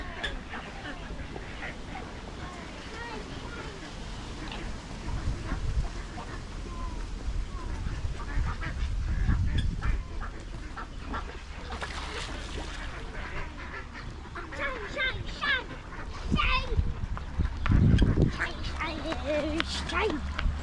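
Ducks quack and honk at feeding time, a busy flock calling over each other nonstop, with people talking nearby and some rustling and clatter mixed in.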